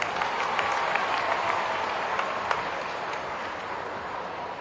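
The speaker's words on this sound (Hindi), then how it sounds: "अपने आप के लिए ताली बजाओ" A large audience at a chief minister's public event in Indore breaks into sustained, dense applause, a steady wash of many hands clapping together throughout.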